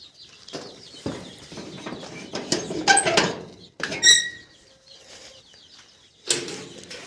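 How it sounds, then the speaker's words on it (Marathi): Young gavran native chicken chicks chirping in short high peeps over rustling and fluttering, close and intermittent, with bursts of scratchy movement between calls. "आपले काही पिल्लं निघालेले आहेत"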